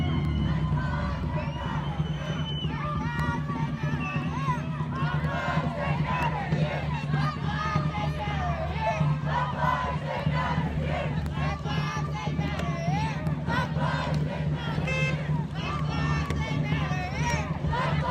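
A large crowd of protesters at a street demonstration near a bridge shouts and cheers continuously, a loud, dense roar of overlapping voices that holds steady from start to finish.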